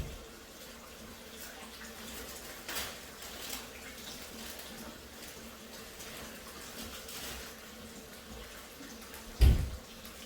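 Water runs steadily from a kitchen tap for rinsing during brownie baking, a soft continuous hiss with a few louder clunks and splashes near the end, no voices.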